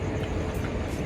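A train stands at a small village station in Vilavade, giving off a steady low rumble and hum of idling railcars, moderately loud and close.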